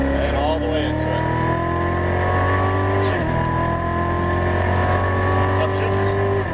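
A Chevrolet Corvette Z06 Stingray accelerates hard on a race track, its engine note climbing steadily through the gears with a brief shift dip midway, loud and close throughout, with an instructor's voice coaching over the engine.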